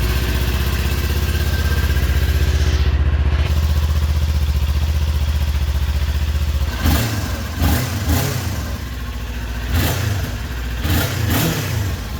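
A 2023 Kawasaki Ninja 400 motorcycle engine idles roughly and steadily on a cold start, then gets several short throttle blips that rev it up and let it fall back.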